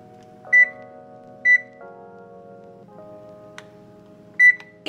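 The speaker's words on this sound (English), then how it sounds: "Beep." A kitchen oven gives three sharp, loud beeps spaced about a second and then three seconds apart, over a steady electronic hum.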